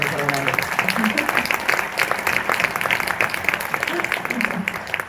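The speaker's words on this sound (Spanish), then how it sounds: "Un aplauso para Pepe Romano." Audience applause for a guest at a Spanish film festival presentation in Tudela, a steady wash of clapping from a crowd, continuous and fairly loud, with a voice briefly audible over it.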